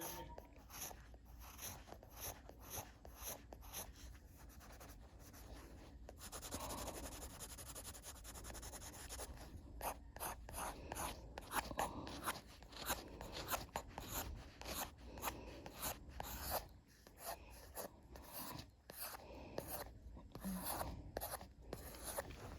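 Charcoal pencil drawing hair on paper: a steady, close scratchy rasp of short repeated strokes, with rapid rhythmic scribbling bursts and brief pauses, no talking.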